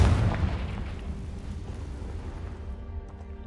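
A Confringo fire spell explosion in Hogwarts Legacy: a booming blast at the start that rumbles and fades away over a few seconds, no voices.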